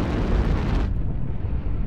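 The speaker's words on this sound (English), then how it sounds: "Warning, incoming missile." Missile explosions in the mech combat game MechWarrior Online burst out as a loud, dense roar of blasts, then drop after about a second into a lower, rumbling aftermath.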